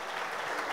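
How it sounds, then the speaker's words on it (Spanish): Brief burst of crowd applause for a man at a gathering, a dense wash of clapping lasting under a second. "un aplauso por favor para Josito el Negro"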